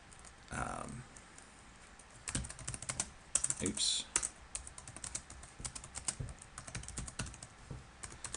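Someone types code on a computer keyboard: quiet, close key clicks come in quick irregular bursts, with a short spoken phrase near the start.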